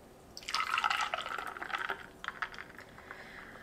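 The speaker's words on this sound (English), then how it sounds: "And then I'm gonna pour the espresso right over top." Espresso poured over ice cubes and vanilla syrup: a quiet, brief splashing trickle with small clinks, fading into scattered drips.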